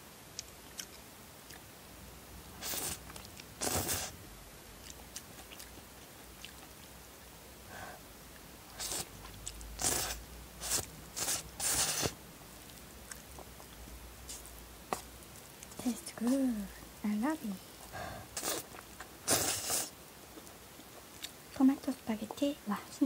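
Someone eats cooked corn on the cob up close, with a series of sharp crunchy bites and chewing sounds in irregular bursts and pauses, and brief talking in between.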